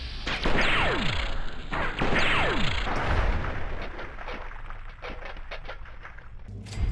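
Gunfire in Fallout 3, with two loud, near shots each followed by a falling whistle-like trail, then a scattered run of lighter impacts and cracks.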